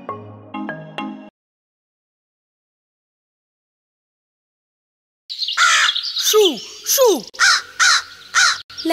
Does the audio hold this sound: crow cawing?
yes